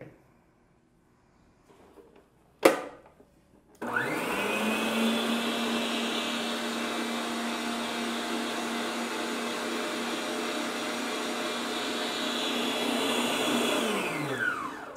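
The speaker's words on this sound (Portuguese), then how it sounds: "vocês vão bater na batedeira até ele ficar o mais esbranquiçado possível" A stand mixer whirs steadily as it beats butter, margarine and sugar for a Pernambuco-style bolo de rolo, starting after a click and a clatter and running loud and continuous for about eleven seconds.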